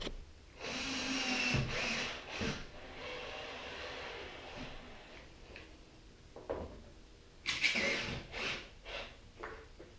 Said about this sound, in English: And now I can hit it with some pocket screws and pull it tight.